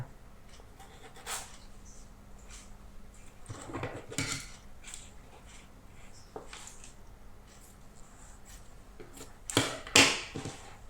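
Metal tailoring scissors cut through blouse fabric, giving scattered crisp snips and clicks close by, separated by quiet pauses, with a louder cluster of cuts near the end.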